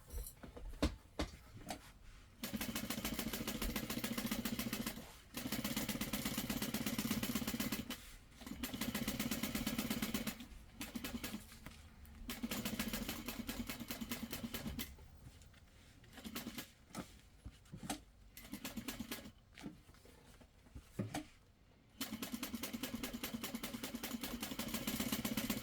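Home sewing machine basting a backpack seam with a lengthened stitch, running in steady mechanical bursts of several seconds separated by short pauses, close and fairly quiet.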